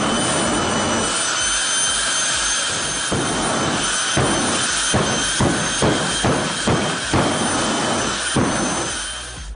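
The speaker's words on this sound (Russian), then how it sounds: "Авто оснащено очень мощным двигателем Pratt & Whitney J60, который был взят с вертолета Sikorsky Skyrain." Jet car powered by a Pratt & Whitney J60 jet engine roars loudly and continuously, with a series of sharp rhythmic pulses and bangs cutting through the steady blast midway.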